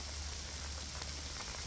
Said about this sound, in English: it started to rain really bad